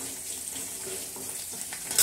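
Grated amla (gooseberries) go into a hot pan for gooseberry rice and give off a continuous close hiss of sizzling with light stirring, ending in a brief louder crackle.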